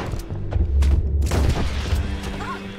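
Gunfire in Red Dead Redemption 2 rings out as heavy booming shots with rumbling low end, several blasts in quick succession over a noisy ambient bed.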